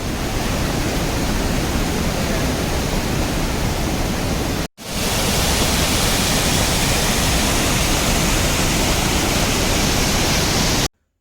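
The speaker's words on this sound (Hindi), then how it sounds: "दोस्तों ये एक बहुत ही नेचुरल वाटरफॉल मिला है बीच रास्ते में" A natural waterfall beside the mountain road on the Yamunotri pilgrimage route gives a constant, loud, broadband rushing roar with no talking. The sound cuts out briefly near the middle and again at the very end.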